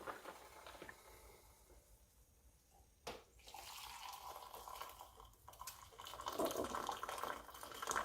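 Homemade roselle tea is poured from a pot into a teacup, a soft liquid splash and trickle that swells and grows steadier toward the end, close and fairly quiet, with no talk.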